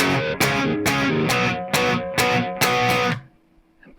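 Heavily distorted rhythm guitar hammers out a riff in seven loud, evenly spaced chord stabs, then drops into a short near-silent pause with a faint ringing tail.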